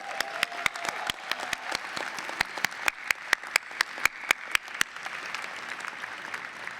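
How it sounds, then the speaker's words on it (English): Scattered, moderately distant claps from a commencement audience applauding graduates' families and supporters, sharp individual hand claps over a soft wash of crowd clapping that fades toward the end. "please give your support system the rousing round of applause that they truly deserve"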